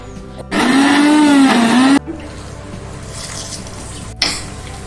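A mixer grinder whirs loudly for about one and a half seconds as it grinds coconut and green chillies for a chutney, then stops abruptly, leaving quieter kitchen noise and a short clatter.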